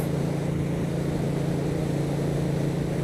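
Steady low rumbling engine drone from a 2019 Triumph Street Twin or Scrambler motorcycle, with a throbbing exhaust note, constant and close throughout.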